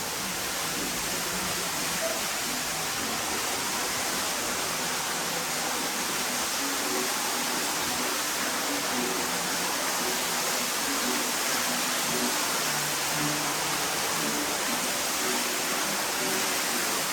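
A waterfall at Rock City on Lookout Mountain, a steady, dense rushing roar of falling water that stays loud and even throughout with no pauses.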